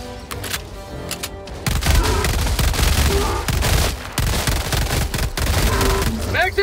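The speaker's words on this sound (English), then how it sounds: "Calling in orbital strike." Orbital strike explosions in Helldivers 2 erupt as loud, rapid blasts and rumbling booms that hammer on almost continuously, with short gaps between the impacts.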